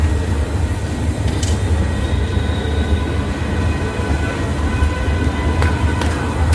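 Howrah-Rampurhat Sahid Express with new LHB coaches pulling out of platform 6 at Howrah station, a steady close rumble of wheels and coaches rolling continuously with faint clanks.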